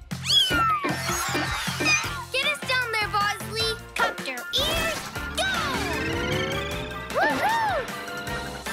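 Cartoon cat meows loudly in a busy animated scene for kids, its rising and falling cries repeating over crashes, music and a voice.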